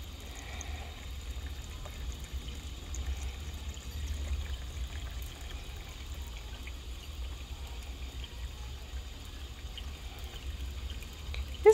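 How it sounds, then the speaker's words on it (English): A hose pours a steady, quiet stream of water over rocks for a solar bird bath outdoors, a soft continuous trickle and splash with no voices. "I'm gonna give these rocks a little washing off."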